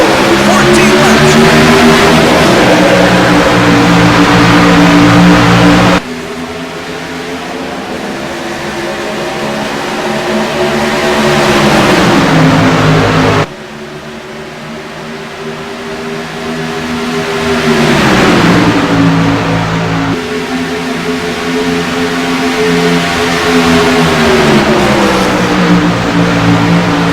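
Race trucks at Chicagoland Speedway roaring as they accelerate from a green flag start, loud engines rising and shifting in pitch as the pack passes, with an announcer talking over the engine noise.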